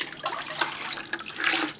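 A sponge is dunked and swished in water for wiping down a plaster wall, with close splashing and dripping sounds that come in quick irregular bursts and no talk.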